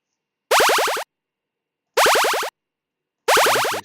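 Three identical synthesized retro game sound effects made with SFXR, each a short buzzy burst with rapidly repeating downward-sweeping tones, separated by silence and fairly loud.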